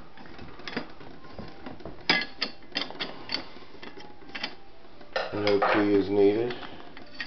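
A 1960s Oak Acorn gumball capsule vending machine being worked by hand, with rattling metallic clicks and clanks from its mechanism close by, followed by a short spoken remark near the end.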